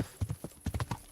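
Hooves of Captain Bernard's horse in Kingdom Come: Deliverance clip-clop in a steady, close rhythm of distinct thuds, with no talk over them.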